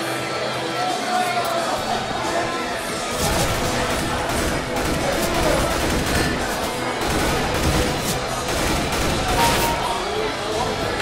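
Rapid gunfire from AK and M4 rifles in a CS:GO deathmatch, dense bursts and crackling shots throughout, mixed with other game sounds and occasional talk.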